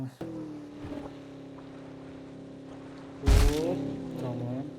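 A car engine in PUBG drones steadily at a constant pitch, then a loud whooshing impact hits, and the motor keeps running, rising slightly afterward.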